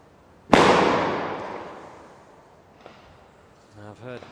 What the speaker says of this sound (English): I've heard two shots from the top of that tower away to my left-hand side